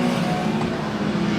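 Junior sedan race cars roar around Rockhampton Speedway during a preliminary A-main, a loud, continuous engine drone with no break, as if the pack is coming out of a turn together.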